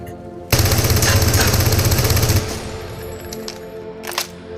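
Automatic gunfire in the VR game Into the Radius: a loud, rapid, continuous burst of shots lasting about two seconds. Fainter mechanical clicks and clatter follow afterward.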